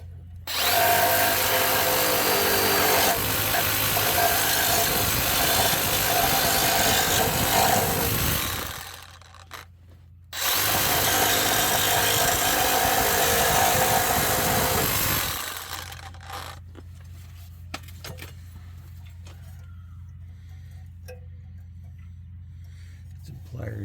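A small grinder cuts a rusty car exhaust pipe in two long, loud, steady whining runs with a short pause between them, then quieter workshop background with no talk.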